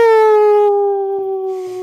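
A long, steady howl sound effect rings out alone, one sustained, gradually fading tone with a faint second wail joining near the end.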